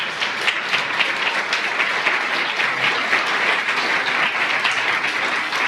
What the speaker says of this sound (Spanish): ¿Por qué no das un fuerte aplauso en esta mañana?